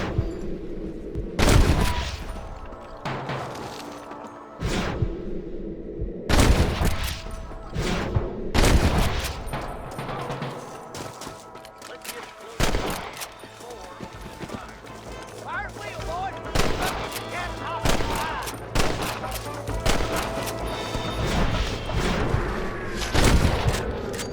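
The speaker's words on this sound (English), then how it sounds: "Good shooting, boy!" A gunfire shootout in the Western game Red Dead Redemption, with loud scattered gunshots and booming blasts in uneven bursts, mixed with game sound and a voice speaking at times.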